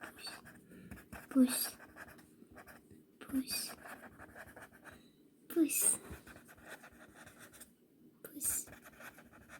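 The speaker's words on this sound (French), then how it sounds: "Donc on va écrire d'abord le radical." Pen or marker scratching out a French verb stem on a board in a classroom, with short scraping strokes coming in bursts between pauses as a teacher speaks quietly nearby.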